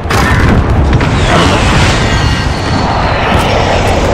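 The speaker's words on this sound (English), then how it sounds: "Enemy precision airstrike" A precision airstrike in Call of Duty: Modern Warfare lands as a loud, sustained booming roar of explosions mixed with jet engine rumble, dense and close throughout with no clear speech.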